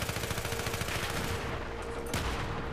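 Dense Battlefield 3 gunfire crackles in rapid bursts, steady and loud for most of the stretch before thinning out, with a sharp blast near the end.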